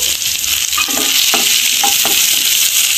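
Onion dropped into a hot pan with roasted cinnamon and cloves for paneer butter masala, giving a loud, continuous close hiss and sizzle with a few stirring clicks.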